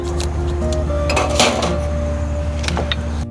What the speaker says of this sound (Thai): จากนั้นนะคะนำขวดอาหารวุ้นลงไปเรียงในหม้อค่ะ